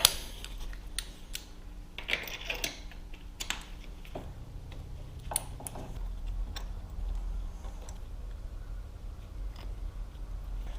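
A 5/8 spark plug socket works loose the plugs on a K7 GSX-R1000 motorcycle, with close ratchet clicks, metallic taps and brief scrapes over a steady low hum.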